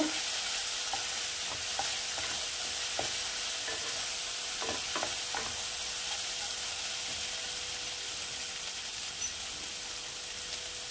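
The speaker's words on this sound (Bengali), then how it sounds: "1 চামচ লঙ্কা গুঁড়ো, একটু নাড়িয়ে নেব।" Chili powder is stirred into a Bengali prawn curry in a pan, with a soft, continuous sizzle and scattered scraping taps from the spoon, close and fairly quiet, and no voices.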